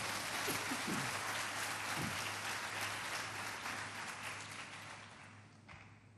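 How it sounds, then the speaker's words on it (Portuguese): A church congregation applauding, a dense steady wash of many hands clapping that slowly fades toward the end, with a few faint voices. "Dê uma salva de palmas a esse Deus maravilhoso."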